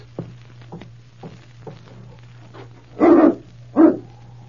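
Dog barking inside a cabin in an old Yukon radio drama, several faint short woofs followed by two louder, closer barks over a steady low hum.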